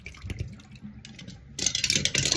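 Water is dumped out of a container. It comes as a sudden bright splash and pour that starts after a quieter stretch of faint drips and handling noise, close and fairly loud.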